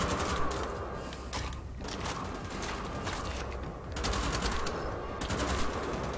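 Rapid automatic gunfire from dual-wielded weapons in the video game Wolfenstein: The Old Blood, dense bursts of shots with mechanical clatter running continuously and loudly throughout.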